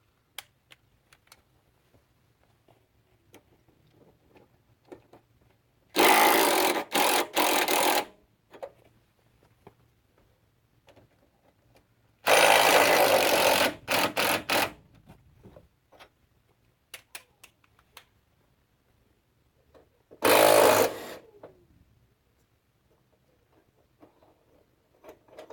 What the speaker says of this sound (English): on this side, I'm just going to be loosening up the bolts.